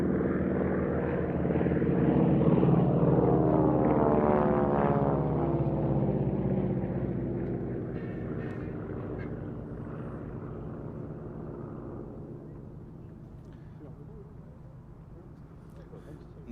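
Beech Staggerwing and Spartan Executive aircraft, both powered by Pratt & Whitney R985 radial engines, drone past at an air show with a loud, throbbing propeller roar that swells, then slowly fades as they move away.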